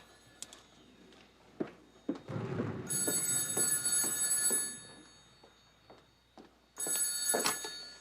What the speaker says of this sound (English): Be a good wife and answer the phone,